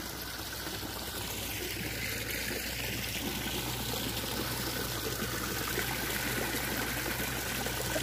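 Hot spring water flows down from a mountain spring, a steady broadband rush and trickle that stays even and continuous throughout, close by and moderately loud with no voices.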